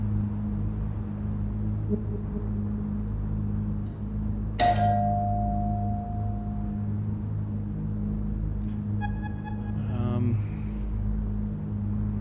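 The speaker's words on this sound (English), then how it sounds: "should I knock on the door and ring the bell?" A doorbell rings at a door in the video game Don't Watch the Tape, a clear electronic ding sustained for about two seconds, followed later by a second quicker chime over a steady low hum.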